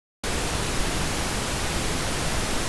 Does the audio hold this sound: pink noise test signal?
yes